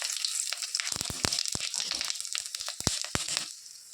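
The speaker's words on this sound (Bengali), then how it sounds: "তেলটা প্রচণ্ড গরম হয়ে গেছে। এখানে শুকনো লঙ্কা, তেজপাতা, দারুচিনি, এলাচ, একটু চিনি, সাদা জিরে দিয়ে সব দিয়ে দিলাম।" Dried red chilies, bay leaf, cinnamon, cardamom, a little sugar and white cumin hit very hot oil, crackling and sizzling close up with sharp irregular pops over a steady hiss.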